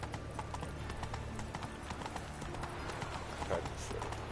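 Steady, quick hoofbeats of the horse Roach galloping in the video game The Witcher 3, close and continuous with an even rhythm over low game ambience.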